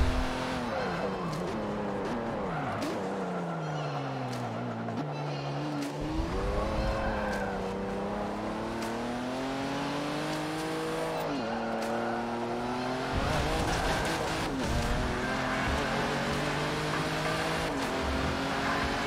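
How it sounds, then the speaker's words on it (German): Race car engines in the video game Forza Motorsport 7 whine and climb in pitch as they accelerate, with tires squealing now and then, loud and continuous with no talking. "der Wagen beschleunigt auf abnormale Speeds hier"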